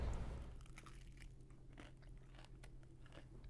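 A close, quiet crunch of biting into hot, crispy fried chicken, followed by soft chewing crackles, with no talking.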